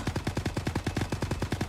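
Firework ultimate ability from the Marvel Rivals video game, heard as a rapid, steady string of punchy bursts, roughly eight per second, loud and close with no talking.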